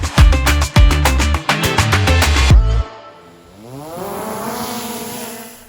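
An Antigravity A1 drone takes off near an airport and flies, a loud close mechanical rattle of sharp repeated clicks giving way to a smoother rising whine of motors and propellers that drifts in pitch as the craft lifts away.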